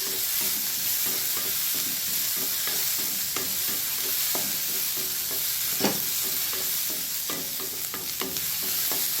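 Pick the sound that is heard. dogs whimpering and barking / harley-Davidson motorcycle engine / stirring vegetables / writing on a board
stirring vegetables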